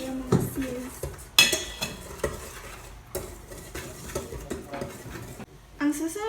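Batter for a baked treat is mixed in a bowl with a utensil, giving irregular close clinks and scraping strokes of varying loudness over several seconds, with a brief sharp knock near the start.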